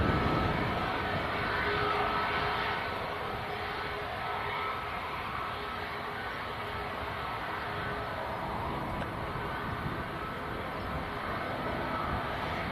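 A Jet2 airliner taxiing at Leeds Bradford Airport after pushback, heard as a steady, continuous broadband engine roar at moderate distance that holds level throughout without any talk over it.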